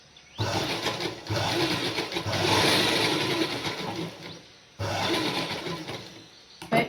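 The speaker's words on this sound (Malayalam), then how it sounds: "അര ഇഞ്ച് വീതിയിൽ തന്നെ കെട്ടിട്ട് താഴേക്ക് സ്റ്റിച്ച് ചെയ്യാം" A sewing machine stitches the waistband of straight-cut trousers at a half-inch width. It whirs loud and close in three continuous runs separated by brief pauses.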